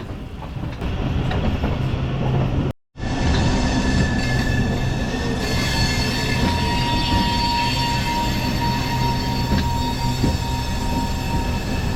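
The Narasapur MEMU Express 17269 rumbles at Vijayawada station, with steady humming tones and faint wheel squeals over a continuous low drone, and a short dropout early on.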